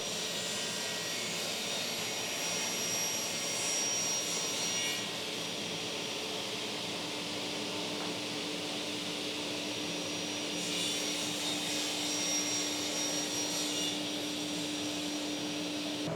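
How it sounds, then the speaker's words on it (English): A router cutting recesses in an oak chair frame, a steady high-pitched whine that runs unbroken for the whole stretch, with a slight rise in loudness partway through. "Using a router, I made recesses that create the illusion of separating the seat from the frame."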